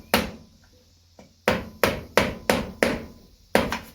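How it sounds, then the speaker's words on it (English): Nails hammered into the sole of a child's boot during a home repair: sharp, close metallic-wooden strikes, about seven blows with a quick steady rhythm after an opening hit, loud and alone. "Nailing it down with these nails."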